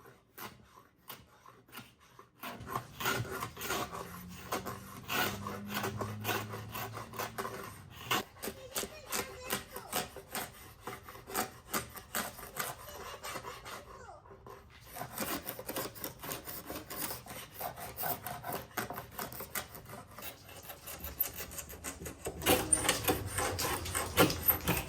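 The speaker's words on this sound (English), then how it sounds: "At this point, I switched over to scraping off the old finish instead," A hand scraper rasps old green paint off a wooden dresser in repeated short strokes, each a dry scratchy pass with brief pauses between, fairly quiet and close.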